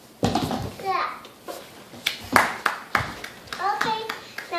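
A small child claps hands at home in separate, uneven claps, close and sharp, alternating with the child's chatter and an adult's voice.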